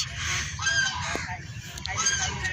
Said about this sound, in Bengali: ওই দেখেন রাজহাঁস।